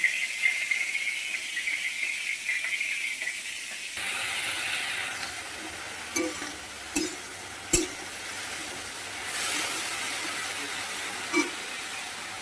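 Potatoes and bitter gourd frying in oil with cumin seeds in a home kitchen: a soft steady sizzle rises after a few quiet seconds, with a few sharp clinks of stirring against the pan.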